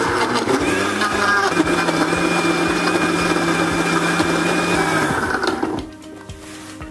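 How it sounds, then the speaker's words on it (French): Blender whirring through a raspberry milkshake with vanilla ice cream, a loud, steady close motor drone with a mechanical hum that runs for about five and a half seconds before winding down and cutting off. "On commence à mixer"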